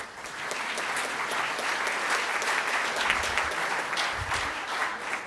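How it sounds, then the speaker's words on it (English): Steady, dense applause from a crowd at a Rotary Club meeting, many hands clapping continuously at an even level throughout. "Let's give them all a round of applause."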